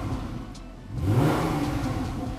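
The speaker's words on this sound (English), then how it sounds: "Rev it up." A car engine revs up, a mid-pitched roar swelling after a brief lull and holding loud and close, with no talk.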